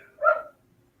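A single short dog bark, fairly faint and a little distant, followed by quiet.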